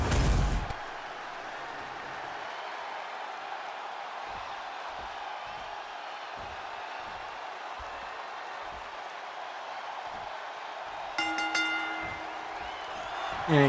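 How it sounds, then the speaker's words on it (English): A steady, roaring crowd in a wrestling video game arena during an NXT event, cheering continuously in the background with a brief louder swell near the end. "You can hear the crowd is behind Cody Rhodes"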